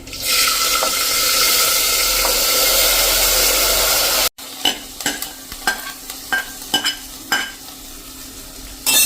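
Moong beans drop into hot oil with turmeric, a loud dense hiss of sizzling that cuts off abruptly, followed by quieter sizzling broken by a series of sharp spoon stirs and clinks against the pot.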